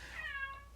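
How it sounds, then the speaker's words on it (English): A house cat gives a single clear meow, drawn out and fairly close, alone with no talking over it. "that's my cat."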